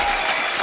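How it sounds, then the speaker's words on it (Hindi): Applause from a studio audience at a television comedy show, a short, dense burst of many hands clapping together, loud and steady throughout with no voices on top. "जोरदार तालियां।"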